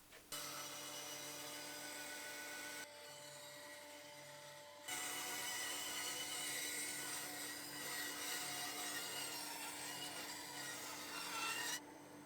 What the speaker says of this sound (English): so I can cut it on the bandsaw.